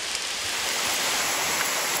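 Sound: heavy rain

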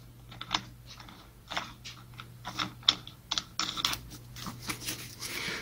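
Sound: fitting a part onto an angle grinder spindle

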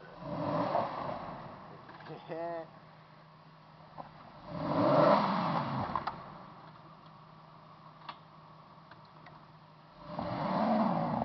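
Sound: Nissan Xterra engine revving, stuck in deep snow

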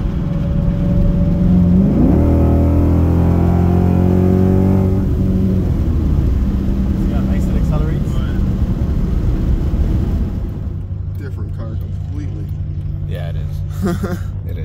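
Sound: Chrysler 300 exhaust revving, cat delete, Hellcat long-tube headers

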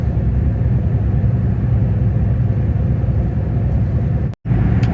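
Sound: car driving through a 7.2 km toll tunnel

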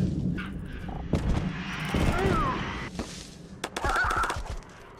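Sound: gunfire from a video game

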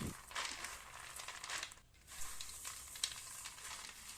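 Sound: roasted peanuts rubbed in a bowl to remove skins

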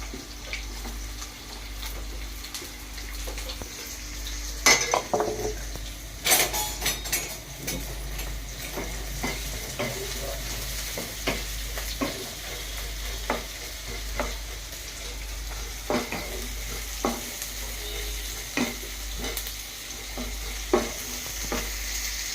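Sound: onions and green chillies frying and stirred in hot oil

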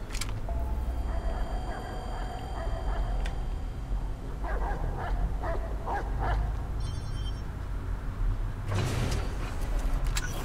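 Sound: dogs barking in the video game Watch Dogs 2

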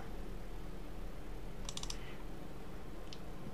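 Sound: computer mouse double-clicking

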